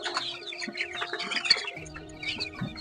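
Golden Misri hen chicks chirp in quick, thin peeps, several overlapping at close range, with a faint hum of background noise beneath.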